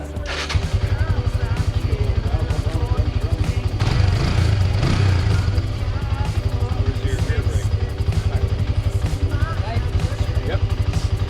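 An off-road buggy engine starts up and runs in a backyard, a loud rapid chugging idle that holds steady with a brief surge in the middle, close by, with people talking over it.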